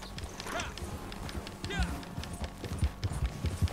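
Horse hooves clip-clopping at a gallop in Red Dead Online, a quick uneven beat of thuds under someone speaking German, growing heavier toward the end.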